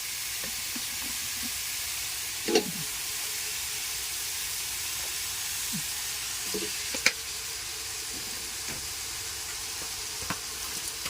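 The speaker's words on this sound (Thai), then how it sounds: "ผัดต่อเลยนะคะ เป็นทำเป็นผัดเผ็ดผัดขี้เมาค่ะ" Spicy drunken-style spaghetti stir-fried with tree basil leaves in a Thai kitchen, a steady loud sizzle and hiss that runs throughout, broken by a few soft scrapes and knocks of the spatula in the pan.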